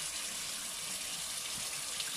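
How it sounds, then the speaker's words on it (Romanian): Steady hiss of a water jet pouring from a newly installed sink mixer faucet with a flexible spout, continuous and close, with no talking. "Deci pe lângă jetul de apă principal,"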